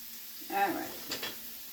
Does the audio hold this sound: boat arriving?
no